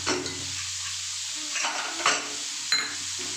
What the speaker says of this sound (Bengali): আমি একবার ডালটা ভেজে নিই।